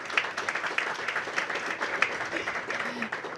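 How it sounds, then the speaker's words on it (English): An audience at a mayoral event releasing a workforce plan breaks into a round of applause, the clapping dense and lively, with faint voices in the room. "Give her a big round of applause."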